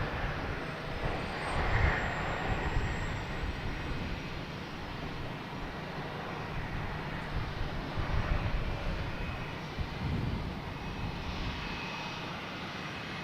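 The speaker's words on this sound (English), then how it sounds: "A couple planes coming in, so that's good." Airplanes come in to land at Boston Logan Airport, a continuous distant engine roar that swells and eases over several seconds with no talk.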